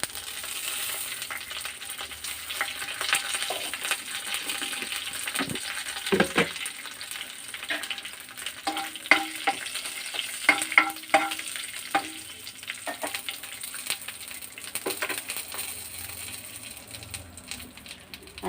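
Dried red chillies, curry leaves and tempering spices frying in hot oil in a pan, a steady bright sizzle with stirring scrapes and small popping crackles throughout, no voices.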